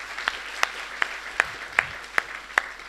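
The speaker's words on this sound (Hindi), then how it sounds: "एक बार माँ हिंदी के इन बेटों और बेटियों के सम्मान में जोरदार ताली बजा दीजिए।" Slow, isolated claps sound at a Hindi poetry gathering held by the Sarwaniya Maharaj town council, about seven crisp single strikes spaced evenly apart, with quiet between them rather than a full burst of crowd applause.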